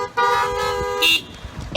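Car horns honking outdoors at a gathering, a sustained blare followed by a short sharper toot and another brief honk, loud and close.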